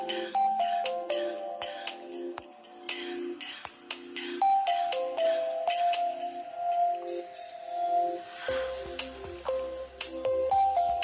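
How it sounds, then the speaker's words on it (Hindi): A mobile phone rings with a repeating tonal melody in an indoor drama scene, sounding steadily through the clip at moderate volume with faint background sounds. "आपका फोन बज रहा है"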